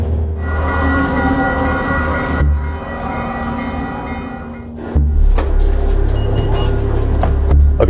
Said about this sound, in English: Here's Ben Mazur as he boards the train in 2023.